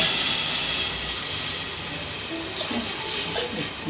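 Buttermilk poured into hot tempering oil sets off a steady, fairly loud hiss of sizzling that carries on evenly with no voices.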